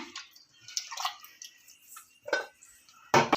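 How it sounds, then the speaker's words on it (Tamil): Water is poured into a pot of lentils for sambar in a home kitchen, with intermittent splashes and trickles at close range and a final louder pour. "தண்ணி உங்களுக்கு எந்த அளவுக்கு வேணுமோ அந்த அளவுக்கு தண்ணி சேர்த்துக்கோங்க நான் கொஞ்சம் தண்ணி வைப்பேன்"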